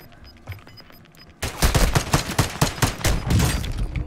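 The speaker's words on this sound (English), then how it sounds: "where am I getting shot from" Rapid gunfire from Warzone 2.0 erupts after a quiet stretch, a loud, dense run of overlapping shots and bursts that continues without pause to the end.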